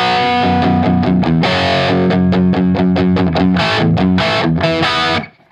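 Heavily distorted electric guitar riffs played with all down-picks, two parts combined in a metal style, loud and close with chugging rhythmic chords that cut off abruptly at the end, no talking.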